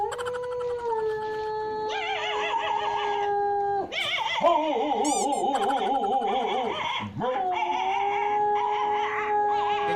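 Long, wavering howls rise and fall over about ten seconds, fairly loud and close, shifting between pitches with a warbling, whimpering quality and no speech over them.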